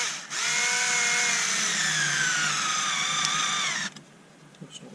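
A Bosch Ixo cordless screwdriver drives a screw into a piece of wood with a steady, close motor whine for about three and a half seconds. Its pitch sags slightly under load before it cuts off, leaving faint handling noise.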